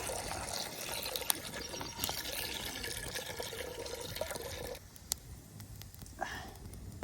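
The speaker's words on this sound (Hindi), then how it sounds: "एक पानी डाल के पानी डाल, थोड़ा सा पानी डालना है" Water splashes and trickles steadily into a pot for making ginger tea for several seconds, then stops, leaving quieter background noise with a few faint clinks.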